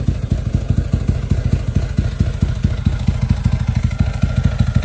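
A 150cc motorcycle engine with a silent replica exhaust pipe idles steadily at about 1500 rpm up close, a fast even thumping putter with a muted, quiet exhaust note.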